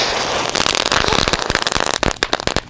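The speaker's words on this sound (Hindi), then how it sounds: "छोटा सा चटर बटर वाला पटाखा" A small chatar-batar Diwali firecracker crackles loudly and continuously, a rapid stream of sharp pops and snaps that grows more spaced and irregular toward the end.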